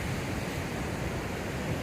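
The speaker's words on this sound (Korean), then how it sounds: "파도 한번 보여드릴게요" Heavy ocean swell and rough waves at sea at sunrise, near a fishing spot, make a constant loud roaring wash of surf close by, with no voices.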